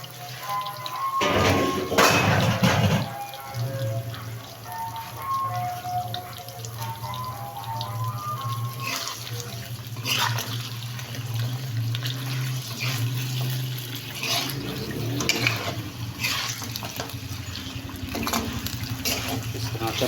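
Mutton sizzling in a karahi for a street-style Peshawari charsi karahi, a steady frying hiss with clanks and scrapes of a ladle against the pan, a voice talking faintly in the background.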